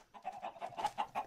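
Robot chickens in a Minecraft modpack cluck in a quick, steady run of short, fairly quiet clucks with no talking.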